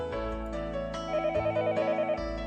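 A telephone rings late at night in the Higurashi visual novel game, a loud electronic ringing melody with repeating tonal pulses, heard alone without speech.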